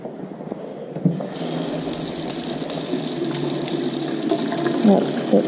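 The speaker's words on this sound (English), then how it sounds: "I did test the water." Hot water runs from an indoor tap in a house with a gas water heater, a steady, close splashing hiss that starts after a soft knock and keeps flowing without a break.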